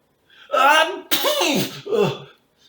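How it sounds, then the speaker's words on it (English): A human voice acts out the big sneeze of a great rubbery-lipped fish during a children's story reading, a drawn-out breathy build-up followed by a sharp explosive burst and a trailing gasp, close and loud. "With a blast of his rubbery lips, the great fish sneezed"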